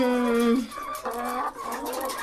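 Laying hens cluck close by on a chicken farm, with overlapping drawn-out, tonal calls and squawks that carry over one another throughout.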